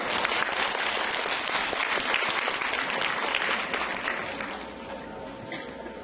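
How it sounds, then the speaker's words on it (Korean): Audience applause at a service-learning evaluation gathering, a loud, dense burst of many hands clapping that holds steady and then tapers slightly toward the end, with no talk over it. "박수로 맞아주세요."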